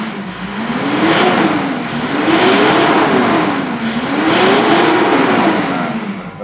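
Mitsubishi car engine after an EGR system cleaning, revved repeatedly in a workshop: three smooth rising-and-falling revs in a steady rhythm, loud and close, with no talking.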